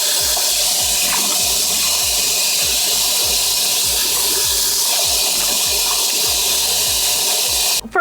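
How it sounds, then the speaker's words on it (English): Warm tap water runs steadily into a sink while a face is rinsed, a close, continuous wash with irregular low splashes throughout, cutting off abruptly at the end. "rinse with warm water."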